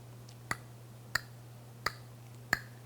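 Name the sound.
tongue clicking against roof of mouth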